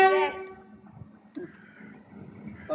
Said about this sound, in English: Southeastern high speed class 395 service